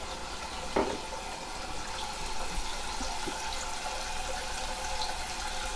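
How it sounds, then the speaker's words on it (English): Tap water runs steadily into a cooking pot holding stew ingredients for turkey gravy, a continuous close splashing flow with a couple of small clunks. "So I'm going to fill up this pot so that it covers all of the ingredients"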